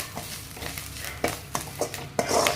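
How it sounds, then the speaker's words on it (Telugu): Curry leaves fry in a small amount of oil, making a continuous soft sizzle broken by a few scraping stirs and light pops, close up and without talking. "ఆ కరివేపాకుని ఇప్పుడు మనము నూనెలో వాడ్చాలి"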